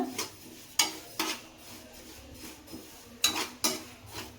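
Sesame seeds roasting in a pan over a gas flame, stirred continuously: a few sharp scraping and crackling bursts stand out over a faint, steady background, with no voices.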